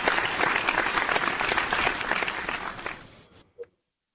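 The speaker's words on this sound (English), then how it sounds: "let's give a round of applause to George." Audience applause at a Broncos talk event, a dense burst of clapping from a crowd that carries on for about three seconds and then stops abruptly, followed by one faint thump.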